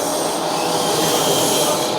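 Hydraulic pump of a 1/14-scale RC John Deere E400 excavator running at idle speed, a steady close whirring hiss without pauses.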